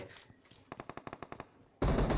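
A rapid burst of automatic gunfire in PUBG Mobile, about a dozen evenly spaced shots, then a sudden loud blast of noise; a game battle with no voices.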